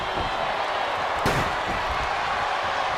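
A steel chair shot in the wrestling video game WWE 2K25, one single sharp slam over a loud, steady arena crowd roar.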